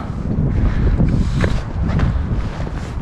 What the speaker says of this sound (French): ce qui est embêtant ici, c'est le vent